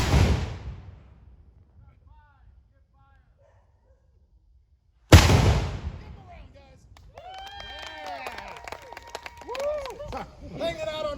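A historic artillery gun fires at a historic site demonstration: one sharp, loud boom with a long decaying rumble, then quiet, then a second blast. After it, a crowd murmurs and a dog barks nearby.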